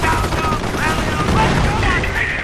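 Gunfire during a battle in Company of Heroes, dense overlapping rifle and machine-gun shots rattling continuously at close range, mixed with battlefield noise and unit voices calling out beneath.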